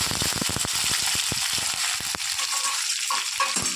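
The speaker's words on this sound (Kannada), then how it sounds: "ಸ್ವಲ್ಪ ಇದನ್ನು ನಸು ಬಣ್ಣ ಬರುವವರೆಗೆ ಫ್ರೈ ಮಾಡುವ." Ingredients for coconut masala rice frying in a pan after mustard seeds pop, a steady close sizzle with quick crackling pops early on that thin out as the spitting settles.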